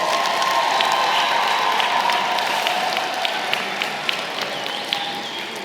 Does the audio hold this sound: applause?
yes